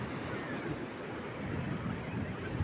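Beach waves at Matang Rayeuk Peudawa Puntong in Aceh Timur, a soft continuous surf wash with some wind rumble, distant and faint, with no clear voices.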